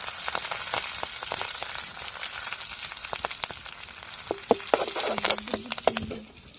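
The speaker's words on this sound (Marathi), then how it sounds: "आपलं तेल बी आता मस्त तापलेलं आहे आणि आपल्याला त्याला आता ना कोथंबीर आणि कढीपत्ता टाकायचा फोडणीला" Oil sizzling steadily in a pan, with scattered crackles and sharp pops growing busier toward the end as coriander, curry leaves and turmeric hit the hot oil for tempering.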